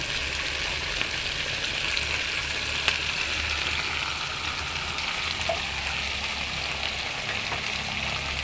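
String beans simmering in coconut milk bubble and sizzle in a steady, close wash of frying noise while being stirred, with occasional soft scrapes and no talking.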